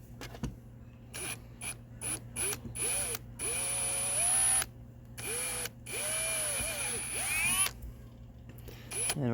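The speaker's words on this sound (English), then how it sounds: "I'm going to drill right here." Power drill boring a straight hole through a wooden deck railing post for stainless cable, with bursts of whirring and rising pitch as the bit spins up and bites, alternating with short pauses.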